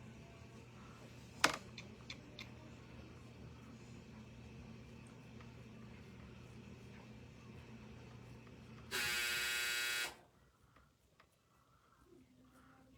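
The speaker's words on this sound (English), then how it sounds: "It's my dryer." A clothes dryer's steady low machine hum rumbles for several seconds, a sharp tick near the start, then a loud harsh buzzer blares for about a second before quiet.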